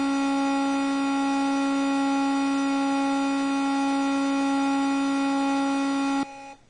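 A steady, buzzy 60 hertz square-wave tone from a Tandy Color Computer in BASIC holds at one pitch for about six seconds, then cuts off abruptly.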